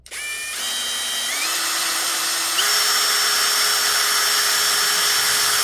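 A MELLIF brushless cordless drill with a metal chuck spinning up at variable speed, a loud whine that steps up in pitch a couple of times before holding steady, close by and alone.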